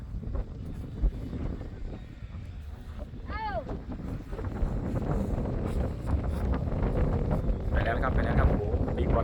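Strong wind buffets the microphone beside a reservoir during kite flying, a steady rough rumble that grows louder toward the end, with people talking nearby and a brief high whistle-like tone midway.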